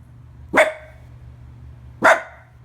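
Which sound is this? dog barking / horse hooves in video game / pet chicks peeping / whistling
dog barking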